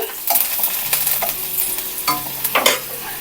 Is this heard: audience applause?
no